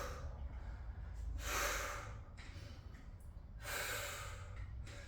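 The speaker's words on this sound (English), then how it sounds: "Always breathing." Heavy, loud breathing during a garage back and shoulders workout with light dumbbells: two strong breathy exhales, snort-like puffs roughly two seconds apart, over a steady low room rumble.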